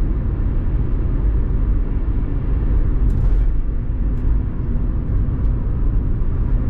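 Rover 25 1.4 hatchback cruising at about 50 mph on open road, heard from inside as a steady low road and engine rumble with broadband tyre noise, even and unbroken, with a couple of faint brief clicks.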